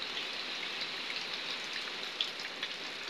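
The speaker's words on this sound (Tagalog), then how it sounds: "Binigyan tayo ng ano, ulan." Steady rain patters on a surface, a soft continuous hiss with a few louder drops standing out; no voices.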